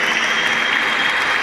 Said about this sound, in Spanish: Un aplauso para las mamás y los papás que vinieron el día de hoy.